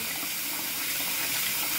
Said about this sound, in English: there's a lot more water flowing through the heater elements